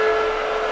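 A person whistles in imitation of a train whistle: a short, loud, steady tone held for under a second with no talk over it.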